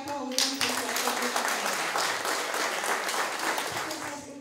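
Audience applause at a Romanian book launch: a dense, continuous wash of clapping from a seated crowd, steady and fairly loud from start to finish, with faint voices mixed in.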